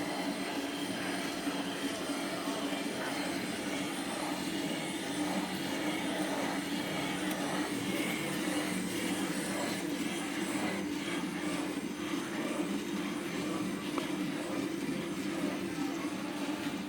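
A Rottler machine cuts an engine's intake valve seat, making a steady, dense mechanical whir and grind that runs without a break and without talk.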